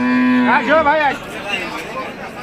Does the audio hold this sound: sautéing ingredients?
no